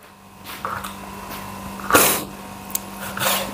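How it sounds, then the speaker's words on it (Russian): A woman sneezes close to the microphone in a kitchen, one sharp burst at the center preceded by breathy intakes, followed by smaller huffs and a soft exhale against a low hum. "я чихнула, вспомнила."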